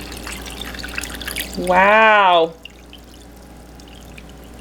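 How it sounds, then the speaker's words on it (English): Water pours into an Under Armour MVP 2L bottle with a rising, hollow gurgling tone that climbs in pitch for under a second and then stops abruptly; a voice exclaims briefly. "let's pour it in. Just how much water can actually fit in here"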